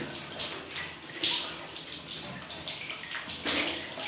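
Water runs and splashes while someone bathes, uneven gushes and pours rising and falling close by, with no talk.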